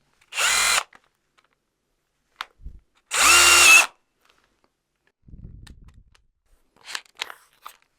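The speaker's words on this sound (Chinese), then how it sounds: "这个齿轮的哒哒哒哒的冲击" A Bosch 12V cordless drill whirs in two short bursts, with faint clicks of its impact gear and light handling noises in the quiet gaps between.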